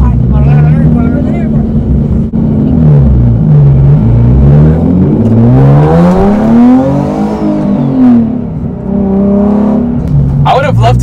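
A loud car engine revs and climbs in pitch, accelerating hard with a deep roar, while people talk over it.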